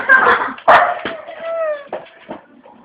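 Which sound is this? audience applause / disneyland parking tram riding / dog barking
dog barking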